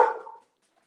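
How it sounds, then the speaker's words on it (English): A dog gives a single short bark that fades quickly into silence. "don't know what he's all like barking about"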